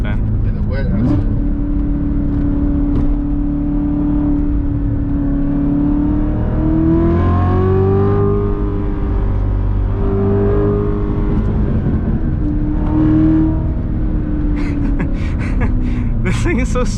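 A C7 Corvette Z06 engine drones loudly from inside the cabin as it accelerates hard, its pitch climbing and falling through gear changes, with occupants talking briefly over it.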